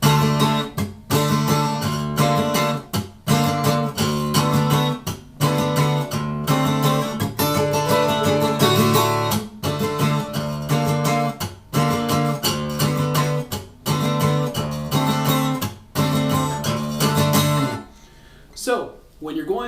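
Electric guitar playing a section of a rock song, a steady loud run of sustained harmonic chords and melody notes with brief gaps, continuous and close until it thins out at the very end.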